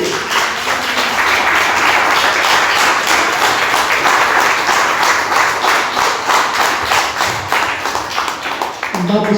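A church congregation claps with strong rhythm for about nine seconds, loud hands beating close to a steady pulse, with voices mixed in and talking starting up as the clapping fades at the end.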